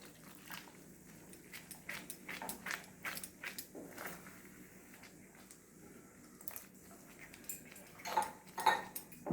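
A spoon clinks and scrapes intermittently against a pot while green chilli sauce is stirred, producing faint, irregular metallic taps at low volume.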